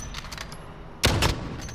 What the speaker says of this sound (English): That was just bad shooting.